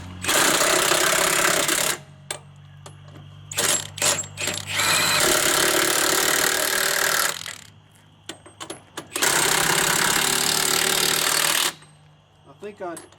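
A Milwaukee 2767 high-torque 1/2-inch impact wrench hammers loudly on rusted semi truck lug nuts in three long rattling bursts, with short pauses and quieter clanks between them.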